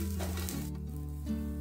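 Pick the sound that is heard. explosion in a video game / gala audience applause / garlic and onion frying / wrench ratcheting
garlic and onion frying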